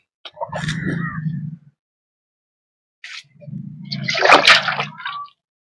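Water is poured over a cow during a Mattu Pongal celebration at home, in two splashing, gushing bursts separated by a short silence, close and fairly loud.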